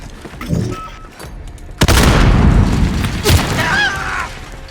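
A grenade detonates in a first-person shooter battle, a sudden loud boom that follows earlier gunfire and rumbles on among further bursts, with soldier voices and radio chatter mixed in.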